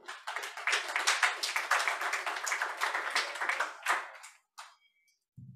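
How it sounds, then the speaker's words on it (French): Audience applauds a biochemistry professor before his talk on brain aging: lively, dense clapping that holds for about four seconds, then trails off into a few scattered claps and near silence. "Donc on l'applaudit bien fort, Benoît."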